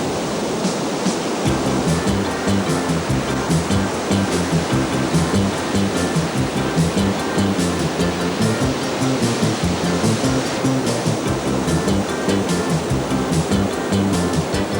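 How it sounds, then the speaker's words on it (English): Atlantic rollers crash onto the wide sweep of Fistral Beach in Cornwall, a loud, unbroken roar of surf that stays dense and steady from start to finish, with no voices. "the famous Fistral Beach is a mecca for all surfers, with Atlantic rollers crashing down on the wide sweep of beach"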